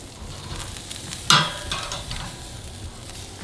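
Picanha sizzles and crackles on a grill right after being flipped fat-cap side up, with a sharp burst of frying hiss at the flip that settles into a steady, close sizzle.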